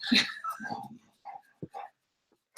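Two dogs whine and whimper for attention at close range, a few breathy yips and whimpers in short bursts separated by quiet gaps.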